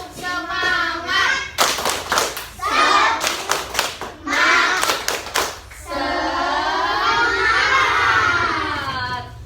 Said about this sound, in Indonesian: kita tepuk semangat dulu supaya lebih semangat